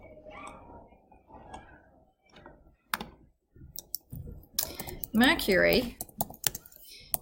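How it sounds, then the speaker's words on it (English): Keyboard typing on a computer keyboard comes in short scattered clicks and a quick burst near the end, mixed with a teacher's nearby speech in a classroom-style lesson. "You're going to type it."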